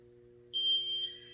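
A workout interval timer in a CrossFit class gives a single short, clear electronic beep over a faint background hum.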